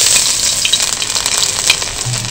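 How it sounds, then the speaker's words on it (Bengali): Ginger and green chili paste hits hot mustard oil in a wok, a loud, close, dense sizzle with brief stirring clatter and sharp crackles, no voices. "এদিকে তেলটাও গরম হয়ে গেছে, এবার দিয়ে দেবো আদা কাঁচা লঙ্কার বাটা"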